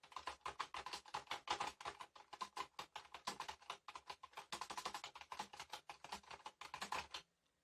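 Rapid, continuous typing on a Dell KM636 wireless keyboard, close and crisp, with quick uneven clusters of key clicks and a brief pause near the end.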